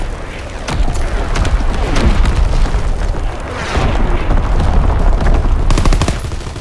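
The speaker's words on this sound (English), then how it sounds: "Incoming enemy artillery! Get to cover!" Booming artillery blasts and rumbling gunfire from the video game Call of Duty WWII, loud and dense, rolling continuously through the whole stretch.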